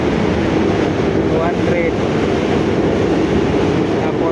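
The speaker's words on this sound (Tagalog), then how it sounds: "tunog ng train." A passing train makes a loud, steady rumble close by, heard from inside a surplus shop on Rizal Avenue while someone talks over it.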